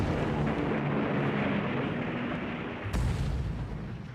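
Anti-aircraft guns on a Berlin flak tower fire in a dense, rumbling barrage of booms, with a sharp new blast near the end, loud and continuous, with no voices.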